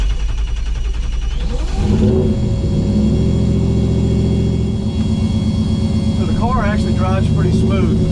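A turbocharged Coyote-swapped Ford Fox body accelerates on the street, its engine note rising loudly as it revs up and then holding a steady, throaty drone, with a voice briefly heard near the end.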